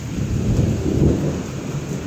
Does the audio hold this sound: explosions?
no